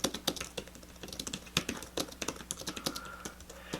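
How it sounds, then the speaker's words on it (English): Fast typing on a Logitech Pro keyboard made for the Samsung Galaxy Note Pro 12.2 tablet, a close, steady patter of crisp key clicks with a few louder taps, heard alone. "So just to demonstrate what it's like to type on it."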